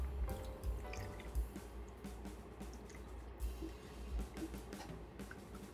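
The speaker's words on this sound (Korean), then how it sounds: "이렇게 어묵 쪽에다 부으시고요" Broth is poured over fish cakes in a pot, giving a continuous soft splashing and trickling with small drips and gurgles. It stays close and moderately quiet, with no talking.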